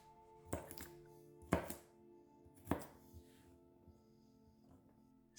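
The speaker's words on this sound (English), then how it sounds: "run the knife through them until the chunks of carrot are as small as" Knife chopping carrots into small chunks on a cutting board: three sharp, separate thunks spaced about a second apart, close and clear over a quiet kitchen background.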